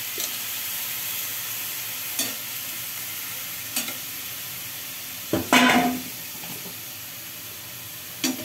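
Boiled cabbage is stirred in a hot pan as it sizzles. A steady frying hiss runs under a few distinct scrapes of the spatula, and one louder stir comes near the end.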